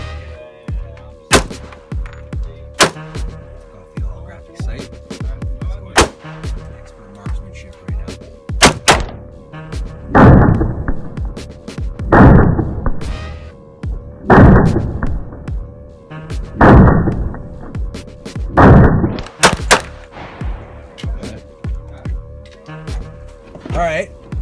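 Guns fire at an outdoor shooting range, with sharp, loud close reports scattered throughout and a cluster of heavier booming shots in the middle, some echoing.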